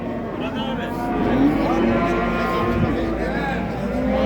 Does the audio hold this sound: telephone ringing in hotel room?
no